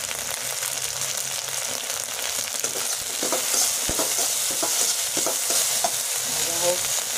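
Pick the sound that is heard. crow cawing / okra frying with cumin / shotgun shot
okra frying with cumin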